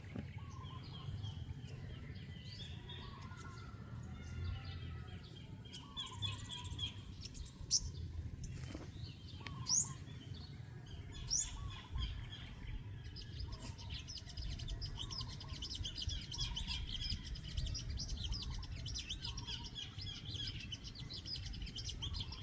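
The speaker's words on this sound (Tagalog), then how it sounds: "May ibon akong makanta." Birds chirp and call on a farm with goats nearby, bright tweets scattered over a steady low rumble of background noise, with no talking.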